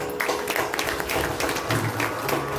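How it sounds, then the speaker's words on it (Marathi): Audience applause at a Bhagavat Saptah religious discourse gathering: steady, dense clapping from many hands fills the whole stretch at an even level, with no speech over it. "टाळ्या वाजवल्या"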